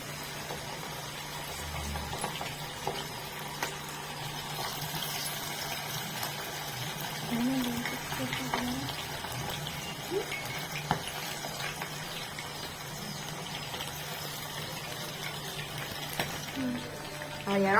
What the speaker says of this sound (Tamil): இறால் வந்து புரிஞ்சுக்கிட்டு இருக்கட்டும்